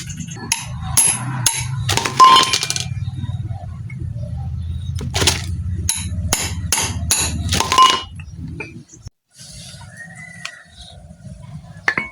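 Sharp metallic hammer strikes ring out in quick bursts as a fork seal is driven into a Yamaha Filano scooter's front shock, then a rapid run of taps, ending with a few quieter knocks and light clatter.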